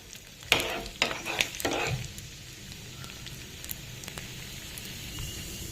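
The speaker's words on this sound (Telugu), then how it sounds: "ఈ పోపు గింజలు వేగే వరకు వెయిట్ చేద్దాం." Tempering seeds and garlic cloves fry in oil for an amla pickle, opening with a few sharp stirring scrapes and pops before settling into a soft, continuous close sizzle, no talking.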